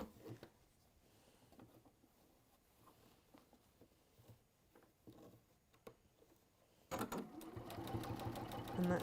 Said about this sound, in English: making sure that you are sewing through your layers